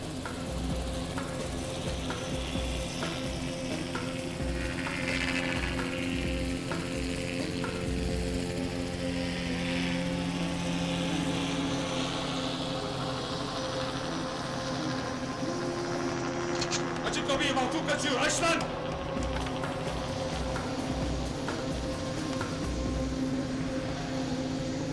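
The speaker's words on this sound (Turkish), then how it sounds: "polis helikopteri avlıyor, acil iniş yapıyor." A police helicopter makes an emergency landing, its engine and rotor droning steadily and loudly throughout with a brief surge near the end, while voices talk over the noise.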